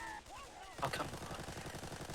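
Video game gunfire rattles in rapid automatic bursts, fairly faint and steady for most of the stretch, after a brief electronic tone and a short louder burst near the start.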